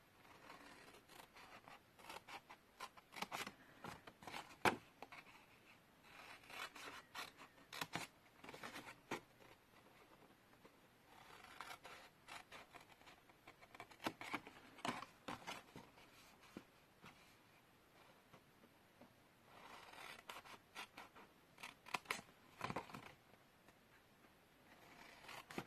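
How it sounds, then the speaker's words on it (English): Scissors cutting card along score lines for a small gift box, producing a long run of soft, close snips and scrapes in uneven bursts. "And you're just going to cut up those."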